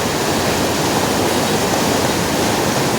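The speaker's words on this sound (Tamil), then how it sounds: "இந்த பாலத்துக்கு மேலே பார்த்தீங்கன்னாக்கா ஒரு மூணு நாலு அடி தண்ணி போகும்னு நினைக்கிறேன்" Floodwater several feet deep rushing over a bridge in Puducherry after Cyclone Fengal, a loud, steady, roaring wash of water with no other sounds.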